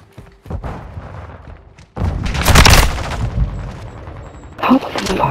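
Gunfire in Call of Duty: Modern Warfare II: scattered shots early, then a dense, loud burst of rapid fire and booms that continues to the end, with a voice partly heard over the shooting.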